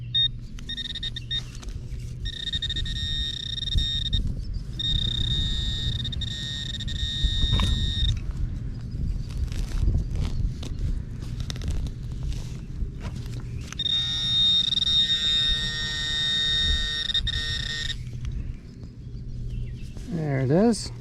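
A metal detector sounds three long, steady electronic beeps while sweeping over a shallow buried coin, likely a quarter, with low outdoor rumble underneath.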